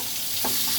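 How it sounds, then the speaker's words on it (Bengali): Pointed gourd pieces fry in oil in a wok, giving a soft, steady sizzle with a faint stir or crackle midway through the short moment. "এবার পটলগুলো আগে ভেজে নিব।"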